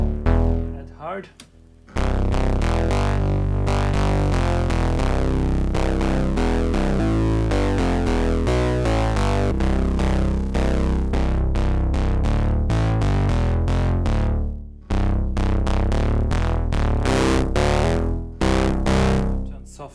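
A synthesizer distortion module switched between hard and soft modes, producing a loud, gnarly buzzing distorted tone that sustains with shifting pitches, broken by brief dropouts.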